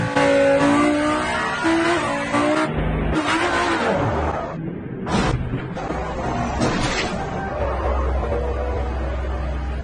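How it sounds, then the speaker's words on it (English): A Lamborghini supercar accelerates hard while overtaking, its engine roaring loud and close with rising revs, brief gear-change breaks and a sharp tire squeal partway through. "What are the odds of surviving extreme overtaking in one of these Lamborghinis?"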